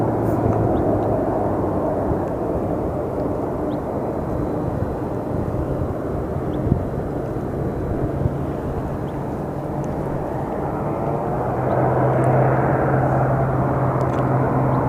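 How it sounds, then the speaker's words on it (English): Military planes at Sky Harbor Airport, a loud, continuous jet roar that holds steady for about fifteen seconds and swells slightly near the end, with no talk. "there's so many military planes right now."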